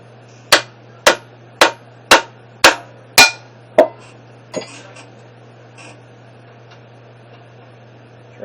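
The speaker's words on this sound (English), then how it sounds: "Get my hammer." Seven sharp hammer blows strike metal in an even rhythm during an engine rebuild, fitting rocker studs, close and loud, followed by a softer tap and quiet clinking, over a low steady hum.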